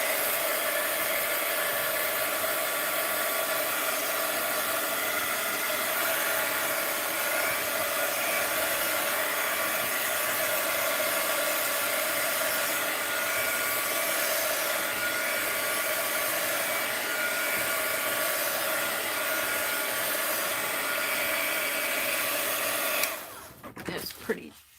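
A hair dryer blows steadily and loud at close range to dry a painted art journal page, a continuous airy roar that cuts off abruptly near the end.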